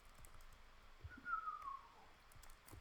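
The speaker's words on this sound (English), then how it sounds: "I should stop whistling." A person whistles a short, gliding tune at moderate volume, a single smooth melodic line over a quiet background with faint knocks and clicks.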